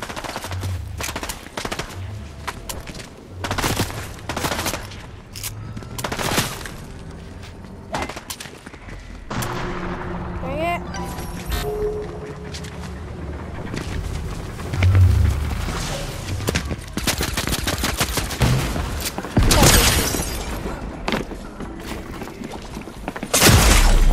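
SMG fire in Fortnite crackles in rapid bursts alongside scattered sharp shots and impacts, loud and close over a busy game soundscape, without talking.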